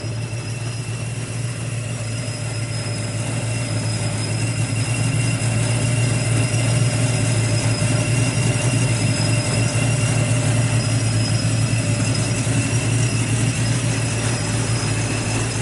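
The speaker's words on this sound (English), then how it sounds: "Hear them superchargers?" A supercharged engine in a 1969 Chevrolet Chevelle Concours wagon runs at a steady idle, a close, constant low drone with a thin high whine sustained on top, loud and unbroken, with no talk.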